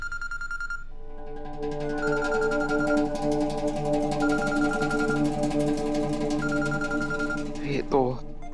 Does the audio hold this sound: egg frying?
no